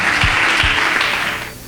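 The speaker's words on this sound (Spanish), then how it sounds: "Dale un aplauso al Señor fuerte." Church congregation applauding the Lord during a Spanish-language sermon, a steady wash of clapping that holds evenly for over a second and then thins out, with a couple of low thumps underneath.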